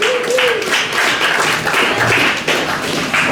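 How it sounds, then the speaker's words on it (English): Applause from the audience at a live comedy roast battle show in Denver, a steady round of clapping mixed with crowd noise that keeps going for the whole stretch. "Make a round of applause for these two."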